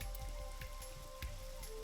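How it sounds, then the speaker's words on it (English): Rain falls in the video game AI: The Somnium Files, a steady, even patter with faint droplet taps over a low background hum. "This rain is awful, it's huh? unusual for this time of year."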